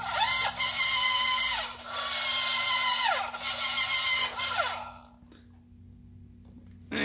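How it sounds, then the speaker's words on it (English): Servos on an RC buggy whir in close, repeated rising and falling electric whines, several movements in quick succession before the sound drops to a quiet hum. "And now we'll have servo movements."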